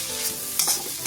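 Vegetables for chicken noodles are stirred and fried on a high flame. A steady hiss of sizzling runs throughout, with scraping strokes from the stirring near the middle and end, close up and with no talking.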